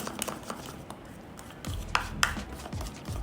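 Ingredients mixed by hand in a bowl, soft rubbing and squelching strokes with occasional light taps against the bowl, close and fairly quiet.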